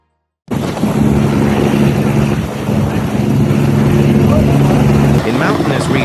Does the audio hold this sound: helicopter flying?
yes